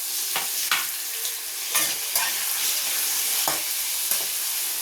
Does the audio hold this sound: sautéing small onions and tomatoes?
yes